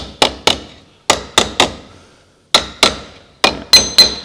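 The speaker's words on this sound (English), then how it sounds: "I'm not belting the absolute crap out of it. I'm just tapping it down" A hammer taps sheet metal on a car's rusty driver's door during repair, about a dozen sharp, ringing close-up blows spaced unevenly, some in quick pairs, with short gaps between.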